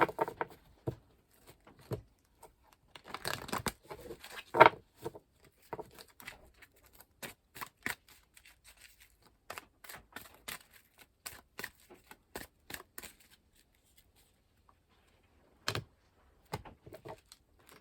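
Quick papery riffles and taps of tarot cards being shuffled and cut, in short bursts with pauses, close up and fairly soft, no talking.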